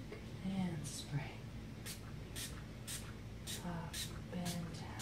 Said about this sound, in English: go around to your right leg and spray